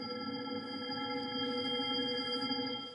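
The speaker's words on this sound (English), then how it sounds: "So this is our attempt at modeling a scene with many different sounds" A synthetic scene of many concurrent, temporally irregular sounds layered like a busy party, forming a dense, continuous wash with steady tonal bands running through it at an even level for the whole stretch.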